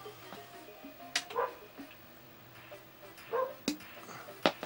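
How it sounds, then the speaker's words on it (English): Dogs bark outside at a distance, several faint, intermittent barks and yips scattered over a quiet background. "Can you hear the dogs?"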